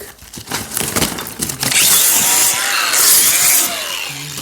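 A parcel package is sliced open with a blade, opening with a few sharp scrapes and taps before a sustained loud crinkling, tearing rasp of packaging material dominates the rest, close up and without talk.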